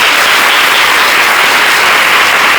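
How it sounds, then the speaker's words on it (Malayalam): A congregation at a community worship gathering applauds, a loud, dense, sustained wash of clapping heard close and continuous throughout. "അത് അനുഭവമായി എന്നുള്ളവരൊന്ന് കൈയടിച്ചു കേട്ടാലോ."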